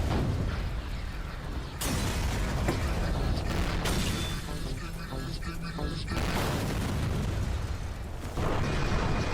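Continuous loud battle din from an animated Skibidi battle with repeated booming explosions and bursts, dense and chaotic throughout, no pauses.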